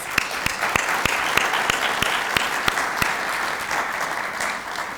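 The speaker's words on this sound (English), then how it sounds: "can I give them another round of applause?" A round of applause from an audience at a Chamber Connect gift announcement event, a steady wash of clapping with several sharp nearby claps standing out, no speech.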